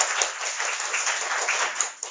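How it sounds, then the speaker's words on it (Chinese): A lecture-hall audience claps to welcome a teacher to an Office skills training session, a dense, even patter of many hands that holds steady for a couple of seconds before tapering off. "老师请大家热烈掌声欢迎孙老师。"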